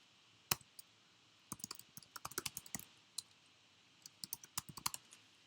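Typing on a computer keyboard: faint, irregular bursts of crisp key clicks in two clusters separated by a short pause, with a quiet background and no talking.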